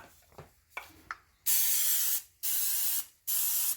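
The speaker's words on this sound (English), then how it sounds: "we will spray the inside of the pan" A few soft clicks and rattles, then three long, loud hissing bursts of aerosol cooking spray into a pie pan, close up, with short pauses between them.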